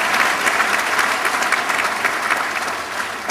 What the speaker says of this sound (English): the President deserves a resounding applause, and please join me in doing so